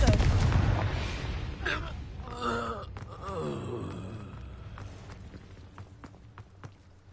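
Confringo blasting spell going off in a video game, a loud boom at the start that decays into rumbling debris and scattered crackles, with a few later sharp clicks and brief vocal sounds.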